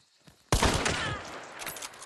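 Sudden burst of rapid gunfire in Hunt: Showdown, a dense volley of close, loud shots erupting after a quiet half second and rattling on with scattered follow-up cracks.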